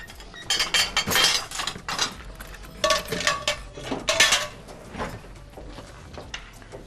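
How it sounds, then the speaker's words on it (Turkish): Quick bursts of a knife chopping garlic by hand on a cutting board, irregular clusters of sharp taps with brief pauses, close by and without speech. "Sarımsağı ben elde doğrayayım hemen."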